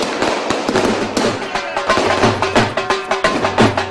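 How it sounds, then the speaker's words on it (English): Fireworks and firecrackers go off during celebrations in Delhi, a rapid string of sharp cracks and pops bursting one after another at close range, with voices faintly in the background. "How much money have you spent on the fireworks?"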